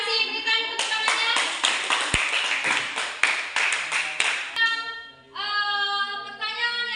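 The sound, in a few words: class clapping hands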